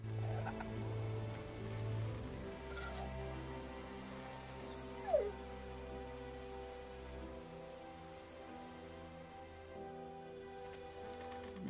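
A dog whimpers softly in The Walking Dead Season 2 video game, a faint high whine standing out briefly over a steady rain-like ambience and low music bed.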